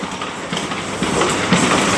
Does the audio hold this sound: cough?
no